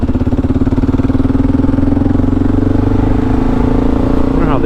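Kawasaki KLR 650 motorcycle engine running steadily while riding on a cold road, a continuous low droning hum close to the microphone with a slight change in pitch near the end.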